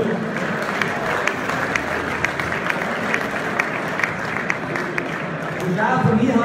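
Audience applause in a hall at an Austrian state cattle show in Imst, steady dense clapping throughout that swells slightly louder near the end, with a voice faintly under it.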